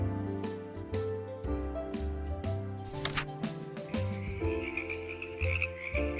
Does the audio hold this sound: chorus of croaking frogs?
yes